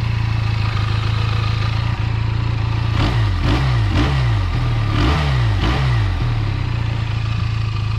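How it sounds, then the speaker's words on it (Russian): A Harley-Davidson X 350 motorcycle engine idles in neutral with a steady low, even rumble, broken midway by a run of four quick throttle blips before settling back to idle. "Кстати, очень приятная работа двигателя. Он прям шепчет."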